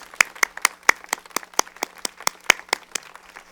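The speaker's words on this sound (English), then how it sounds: "Please join me in giving a big round of applause to these fabulous sponsors." Sparse audience clapping for event sponsors at a charity wine-tasting show, a handful of distinct, fairly loud claps at an uneven rhythm rather than a full ovation.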